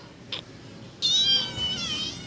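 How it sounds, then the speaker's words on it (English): A pet cat gives a short chirp and then a long, loud, drawn-out meow at close range, with a quiet background and no talking. "Here's my cat."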